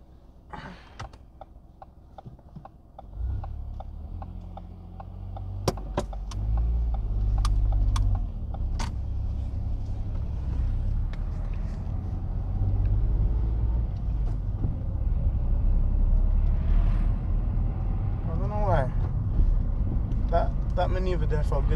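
A car pulls away during a UK mock driving test, engine rumble rising steadily after a few quiet seconds, with clicks and taps inside the cabin and people talking over it.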